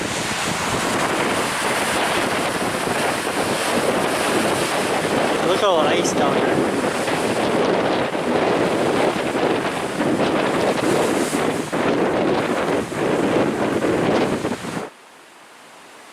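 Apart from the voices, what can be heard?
strong wind blowing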